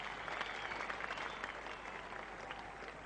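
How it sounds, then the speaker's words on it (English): A full house of cricket spectators at the Oval applauds during a 1987 England versus Pakistan Test match, a steady, even wash of many hands clapping at a distance that holds without pause. "A generous round of applause from this full house here at the Oval."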